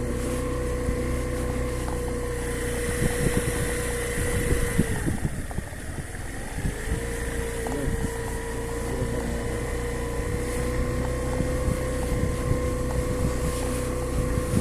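A motorboat moves on water with a steady, loud engine drone and wind buffeting the microphone, the pitch dipping briefly midway before resuming, with no talking.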